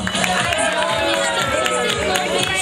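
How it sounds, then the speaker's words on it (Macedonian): An audience at a kindergarten event applauds, a dense, loud, continuous clatter of many hands clapping with some crowd noise mixed in. "Ајде не молам аплауз, не ги штедете рацете"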